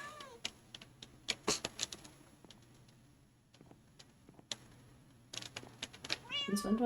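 Several cat meows come and go over a quiet indoor room with light ticking and clicking, growing louder and more frequent toward the end.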